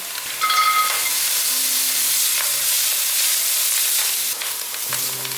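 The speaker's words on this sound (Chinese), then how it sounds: "香菇大约炒了4分钟，把红萝卜放进来" Shiitake mushrooms and carrots stir-fried in hot oil in a wok, a steady close sizzle with scraping spatula strokes, no voices.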